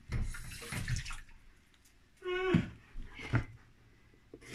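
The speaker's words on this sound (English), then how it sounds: "Just top and tail the courgettes, give them a wash" Courgettes washed under a running kitchen tap: splashing water in uneven bursts, close by, with a brief squeaky rising tone in the middle and quieter gaps between.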